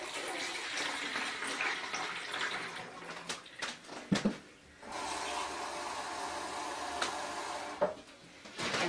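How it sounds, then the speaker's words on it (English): A cup of vinegar poured through a funnel: a continuous close splashing, gurgling stream of liquid with brief interruptions, and no talking. "I'm going to use my funnel. I'm going to put in 1 cup of vinegar."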